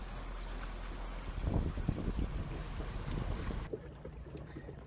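A small boat driven by an Epropulsion Spirit 1.0 Plus electric outboard on an easy evening ride, a low steady whir under wind rush and water wash, fairly loud and continuous, with no one speaking.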